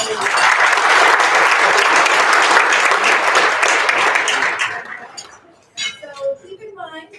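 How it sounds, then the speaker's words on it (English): A banquet crowd at a barbecue awards night claps loudly and steadily for about five seconds before the applause fades out. A voice then speaks over the quiet room. "let's give him a round of applause"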